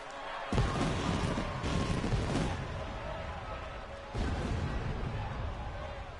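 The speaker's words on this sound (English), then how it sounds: "Damn, there's fireworks going off everywhere." Fireworks pop and boom during a wrestler's entrance in a wrestling video game, a sudden loud burst followed by sustained crackling barrages, a brief lull and another renewed volley.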